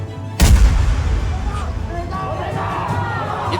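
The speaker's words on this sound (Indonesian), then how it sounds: "Di tengah-tengah dentuman mortir dan gelegar meriam dari kapal perang Inggris" A loud boom opens a war reenactment of the British warship bombardment at Surabaya's last train departure, mortar and cannon fire breaking out once, then a lingering rumble under crowd babble and shouts, with whistle-like tones drifting through.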